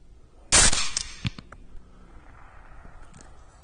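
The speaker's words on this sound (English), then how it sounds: "Shoot him in the head whenever y'all ready." A single rifle shot fired while hunting at night with a thermal scope: one loud, sharp, close report followed by a quick fading tail and quiet outdoor background.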